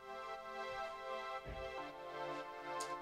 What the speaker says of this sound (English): Deep Blue. It's a Massive X preset.